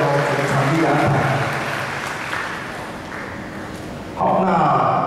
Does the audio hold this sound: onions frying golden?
no